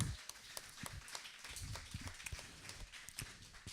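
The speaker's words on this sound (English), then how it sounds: "Let's give them a nice round of applause." Scattered applause from a small audience thanking a sponsor, with irregular, fairly close claps sounding steadily for a few seconds without talk.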